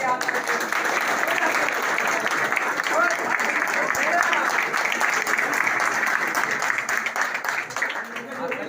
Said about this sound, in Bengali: জোরে একটা তালি